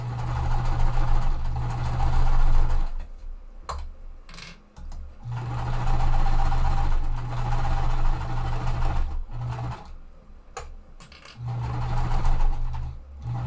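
A sewing machine stitches quilt pieces in long, steady runs of rapid humming, pausing briefly between bursts with small clicks and handling noises.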